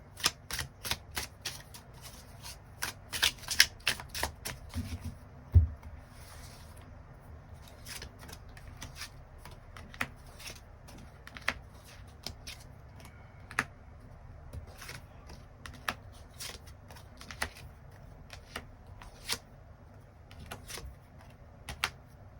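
Tarot cards shuffled and drawn for a love reading, a quick run of crisp riffling snaps early on, then sparse single card flicks and taps spaced out over a quiet room.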